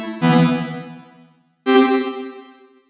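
An electric guitar run through a Pladask Elektrisk Baklengs granular pedal sounds two separate sustained notes, each with a sharp onset and a long, smooth decay, close and clear with a gap of silence between them.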